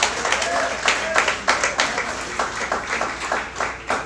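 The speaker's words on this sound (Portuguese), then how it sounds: "Quer aplaudir? Aplauda ao Senhor." A church congregation applauding in rhythmic, steady clapping bursts that fill the room throughout.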